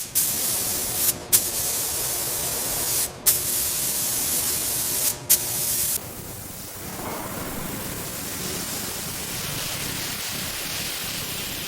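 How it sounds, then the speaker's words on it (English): Pressure bleeds from a restored boiler in a loud, close, broadband hiss, broken by a few short sharp gaps in the first half before settling into a quieter, steadier rush of escaping air or steam. "Watch for the pressure release."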